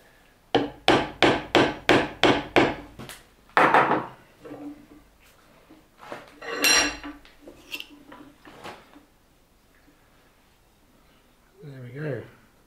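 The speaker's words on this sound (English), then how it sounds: "I'm going to just put it in the vise. Just cinch it home like that." A Viking knife being cinched home in a vise: a rapid series of about eight sharp, evenly spaced knocks followed by a heavier thud and a few scraping clunks, with someone talking afterward.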